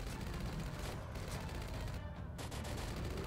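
Gunfire in the video game Carnivore Land: dense, rapid bursts of shots from a powerful weapon, loud and continuous over a few seconds with only brief gaps.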